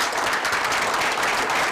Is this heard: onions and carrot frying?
no